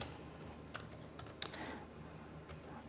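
Typing on a computer keyboard to enter text in Tally accounting software gives a handful of faint, scattered key clicks over a quiet room background.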